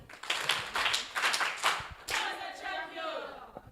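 A group at an online communications and digital technology event gives a quick burst of clapping, with scattered claps followed by a brief cheer-like swell.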